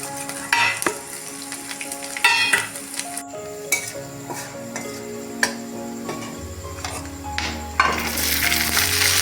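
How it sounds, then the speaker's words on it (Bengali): Chopped ginger and garlic sizzle and crackle in hot oil as a spoon clatters against the pan in scattered knocks, with no voices. "আদা কুচি রসুন কুচি এগুলো ভালো করে ভেজে নিয়ে"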